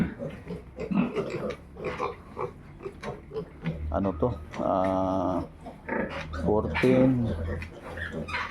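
Piglets on a pig farm grunting and squealing in bursts, close by, with a sustained harmonic squeal in the middle; animal calls overlap with someone talking throughout.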